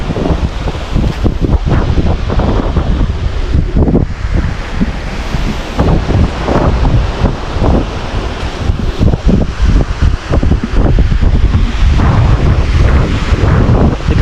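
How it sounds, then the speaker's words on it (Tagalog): Strong wind buffets the microphone while ocean waves wash and surge continuously in the background, loud and steady throughout. "Ang sarap ng hangin, oh."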